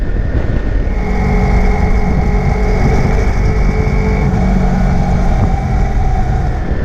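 A Kawasaki Versys X 300 motorcycle rides along a dirt road, its engine droning steadily and loudly with constant wind and road noise throughout, no speech over it.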